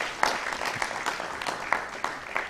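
Applause after a speech at a public event on consumer protection and SIM card registration: a crowd clapping steadily for a couple of seconds at moderate distance, with scattered louder claps and no talk.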